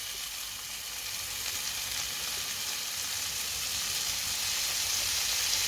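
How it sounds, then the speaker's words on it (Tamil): Soy sauce goes into a hot pan for chicken noodles, a steady, moderately loud sizzle and frying hiss that slowly grows a little stronger, with no talking. "இதுக்குள்ளே வந்து கொஞ்சம் சோயா சோட் விட போகிறேன் சோயா சோஸ்"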